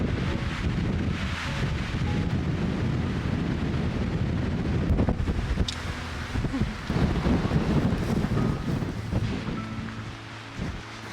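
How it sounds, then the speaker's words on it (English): Strong wind on a mountain ridge along the Pacific Crest Trail, a continuous loud roaring buffet with heavy rumbling gusts battering the microphone and no pause. "it's very windy up here"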